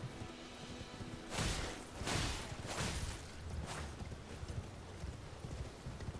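Horse hooves pound in a galloping rhythm during horseback combat in the video game Elden Ring, with a few swishing bursts, over a steady background wash.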